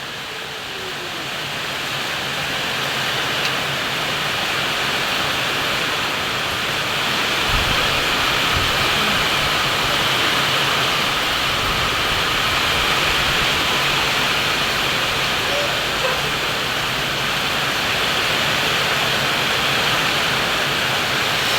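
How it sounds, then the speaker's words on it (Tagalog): Heavy rain pours steadily near a river, a dense, continuous broadband hiss like a waterfall that stays even and loud throughout with no voices. "dito po ay malakas po ang ulan"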